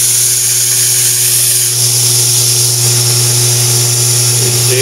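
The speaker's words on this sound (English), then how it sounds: "Lay it up against the belt. The belt does all the work." A cleaver held against a running belt sander for sharpening gives a loud, steady, high-pitched grinding whine with a constant motor hum underneath, continuous and close throughout.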